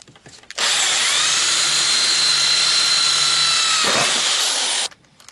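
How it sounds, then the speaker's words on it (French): Electric drill boring with a 5 mm bit while fitting a Xantia interior into a Traction 11B, a steady high whine running about four seconds alone, with a brief dip near the end before the motor stops. "alors je perce d'abord avec un forêt de 5"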